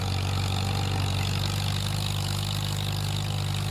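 A tractor engine idles steadily in Farming Simulator 25, a low, constant hum that stays loud and even throughout with no talking over it.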